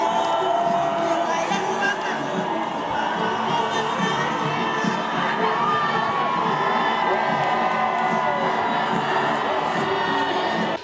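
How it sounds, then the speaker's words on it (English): A massive crowd of Christians in Yaoundé cheers, shouts and whoops as the Pope's motorcade passes, a dense, continuous roar of voices with scattered high calls and some singing, loud and steady throughout. "The Christians of Yaoundé who turned out massively shouted and sang hymns of joy as the Pope mobile drove across the impressive crowd"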